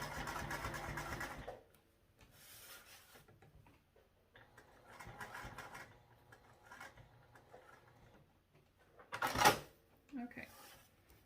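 Sewing machine stitching into a corner of a pocket sewn onto a lining piece, short mechanical runs starting and stopping in bursts, close and fairly quiet, with a louder clatter near the end.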